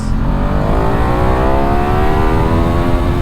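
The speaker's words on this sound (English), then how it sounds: "Ring open the throttle and it goes ballistic." A Ducati Diavel motorcycle engine roars loud and close at open throttle, its pitch climbing steadily in one continuous sustained rev with no talk.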